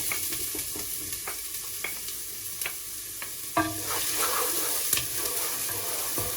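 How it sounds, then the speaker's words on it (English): Garlic and onion frying in warm oil for a Bosnian beef goulash, a steady close sizzle broken by sharp stirring clicks and scrapes, louder after a burst midway, with no voices. "So I have the warm oil, so I put garlic and onion first of all."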